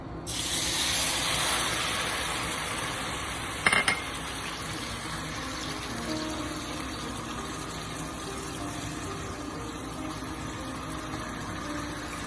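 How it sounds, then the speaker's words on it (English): Hot oil hisses and sizzles steadily in a pot, a faint, continuous crackle with a brief clatter partway through. "You hear that sizzle?"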